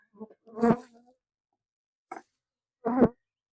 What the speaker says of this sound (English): All right, go home, bees. Leave me alone.